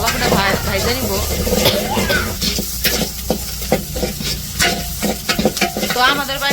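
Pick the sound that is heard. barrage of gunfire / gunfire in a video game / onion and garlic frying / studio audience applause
onion and garlic frying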